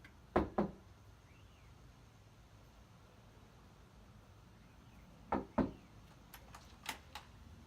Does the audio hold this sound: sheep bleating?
no